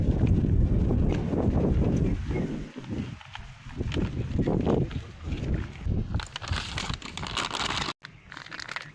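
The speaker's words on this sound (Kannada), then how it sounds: "ಗಾಳಿ ಚಲೋ ಆಗ್ಯದ ಎಣ್ಣೆ ಬಿಡ್ಲಿಕ್ಕೆ" Steady wind noise blows across an open farm field, buffeting the microphone loudly and continuously, with rustling gusts, a brief dropout near the end, and no talking.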